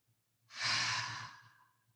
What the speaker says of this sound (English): Let's practice some long exhales